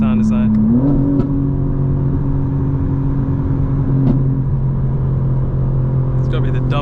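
Engine note of a 2025 BMW M4 Competition xDrive tuned to about 900 hp, heard from inside the cabin with its Active Sound Design synthetic tones, a steady droning hum that rises slightly early on and holds under continuous talking.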